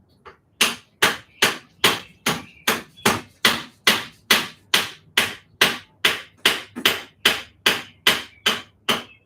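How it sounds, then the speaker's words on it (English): A hammer strikes a car starter motor on a Volvo wagon in about twenty sharp, evenly spaced metallic taps over nine seconds, loud and close, while the ignition key is held on and no one speaks. "You want me to hold the key on while you hit it with a hammer?"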